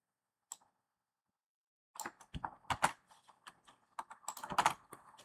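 Quick, uneven tapping of keys on a computer keyboard, close and fairly quiet, after a single click and a short silence.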